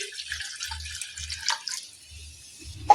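Water poured into a bowl while cooking soya curry in a home kitchen, a brief splashing trickle in short bursts, close and fairly quiet, with no talking.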